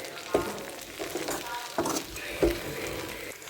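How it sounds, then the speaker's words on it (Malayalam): Ground coconut, green chilli and garlic paste is added to a hot pan and fries with a steady close sizzle, broken by a few sharp stirring scrapes, with no talking. "അപ്പോൾ നമുക്കിതിൻ്റെ അരപ്പ് ഇതിലോട്ട് ചേർക്കാം."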